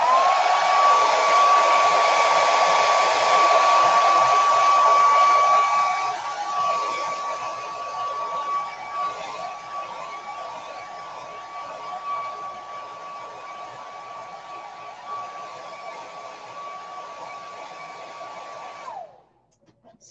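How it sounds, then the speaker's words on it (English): Hair dryer blowing steadily up close to dry an area before a transfer is laid on, loud for the first several seconds and then quieter as it moves off, before it cuts out near the end. "I'm gonna blow dry this area that I've already done because I want it to be dry"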